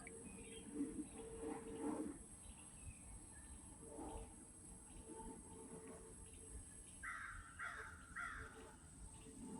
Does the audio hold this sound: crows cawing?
yes